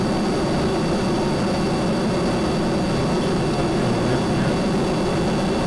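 Spaceplane jet engines in Kerbal Space Program hold a steady, loud, broadband roar with a deep rumbling base, unbroken and unchanging throughout, with no voices.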